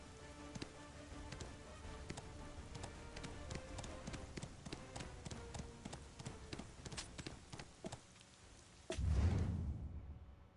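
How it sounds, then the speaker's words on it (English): Rhythmic clip-clop of horse hooves while riding in the Black Desert video game, an even trot of quiet sharp knocks that stops with a heavier thud near the end. "get on the horse and go this way"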